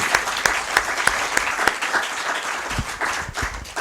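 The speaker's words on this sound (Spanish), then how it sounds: "Vamos a... un aplauso." An audience claps in sustained, dense applause at a talk, close and fairly loud with scattered sharper individual claps.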